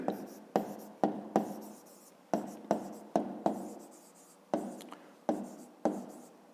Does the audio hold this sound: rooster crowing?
no